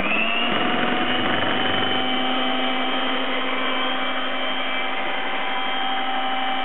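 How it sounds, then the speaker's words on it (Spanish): A steady electric motor whine drones continuously, close and fairly loud, like a hand blender running without pause. "Ara batim amb la batidora i mesclem."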